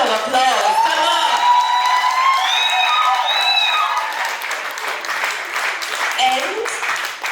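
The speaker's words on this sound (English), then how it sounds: "Oh, a better round of applause." A live cooking event audience claps loudly while whoops and cheering voices ring out over the applause, which then settles into steady clapping with a few more shouts toward the end.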